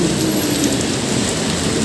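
Heavy rain pours down in a sudden downpour during a Honda Click 125 scooter ride, a dense, steady hiss that fills the scene from start to finish with no voices.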